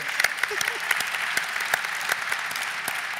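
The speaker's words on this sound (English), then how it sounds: "Give Becky another round of applause for the ADA" A conference audience gives a round of applause at an education initiative session, dense sustained clapping with sharp individual claps standing out, loud and continuous with no talk over it.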